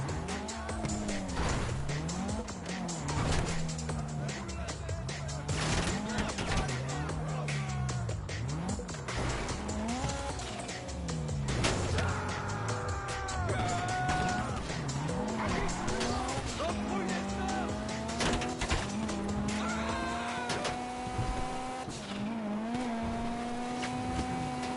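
A car in the GTA V video game driving hard, its engine revving up and down repeatedly with loud tire squeals and skids layered over it, close and continuous throughout.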